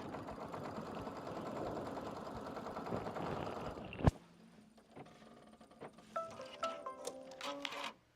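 Sewing machine stitching fabric, a busy close mechanical whirr running steadily for about four seconds, stopping with a sharp clunk, then quieter intermittent stitching and clicks.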